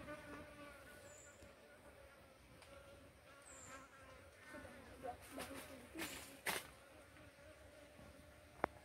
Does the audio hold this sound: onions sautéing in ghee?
no